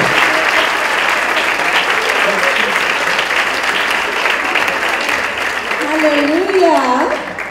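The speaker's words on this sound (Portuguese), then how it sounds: "Vamos aplaudir Jesus, honrando a vida dela." An audience at a church miracle crusade applauds loudly and continuously, a thick sustained roar of clapping, with a voice briefly rising over it near the end.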